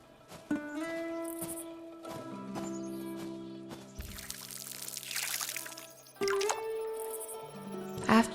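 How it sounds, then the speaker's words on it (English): Beet seeds get watered in a farming video game: a soft splashing pour and drip sounds play over steady, melodic background music, peaking briefly in the middle. "Then I watered the beet seeds."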